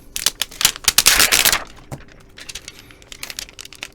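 Vinyl sticker letters peeled off transfer tape, giving dense crackling and tearing bursts that crowd the first second and a half, then thin into sparse close ticks and pops.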